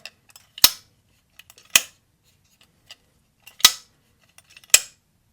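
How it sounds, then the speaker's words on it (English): An Eclipse 180-1 folding knife snaps open and clicks closed four times, each a crisp, sharp metallic click close up, separated by quieter small rattles and near silence. "I'm opening and closing the knife"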